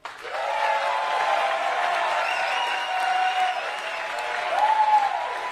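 A large rally crowd in Las Vegas claps and cheers steadily, with a chanting or shouting voice carried over the continuous applause.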